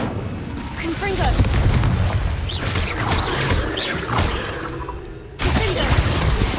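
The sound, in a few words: Confringo and Incendio spell blasts in video game Hogwarts Legacy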